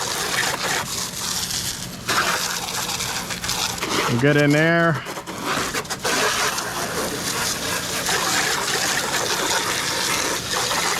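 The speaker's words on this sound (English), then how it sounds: "So we're going to spray it down." A hard water stream spraying fresh mud off the underside of a muddy ATV, a steady hissing gush throughout, with someone briefly speaking over it.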